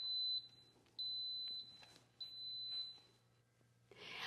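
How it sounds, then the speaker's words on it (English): Three long electronic beeps from an Instant Pot pressure cooker, each held about half a second, sound clearly in a quiet room, with a steady low hum underneath and a brief rustle at the end. "In a few seconds, it's going to beep, letting me know that it heard the command,"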